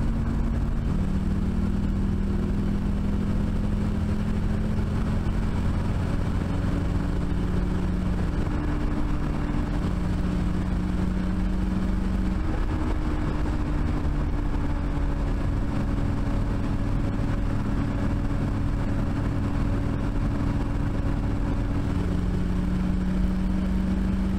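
A Chevrolet Camaro Z28 T-top launches hard, its engine droning steadily with pitch rising and dropping through gear shifts, heard from inside the car without talk.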